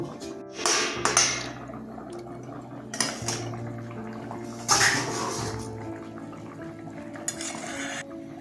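A curry pot of green pea dhoka dalna is covered while it simmers, with several bright metallic clanks and scrapes of a lid and utensils against the pot, fairly close, between quieter gaps.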